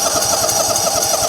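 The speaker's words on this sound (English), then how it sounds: "we need to start up the engine, let the oil fill this oil filter up" Engine of a John Deere lawn tractor (GT/GX/LX/X series) starting and settling into a steady, loud idle after an oil change, a continuous close mechanical drone with a slight rough pulse and no talk.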